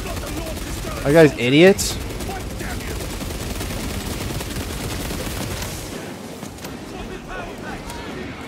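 Rapid gunfire from a weapon in Warhammer 40,000: Space Marine 2, a dense continuous barrage of shots running through the whole stretch under battle noise, with someone briefly talking over it.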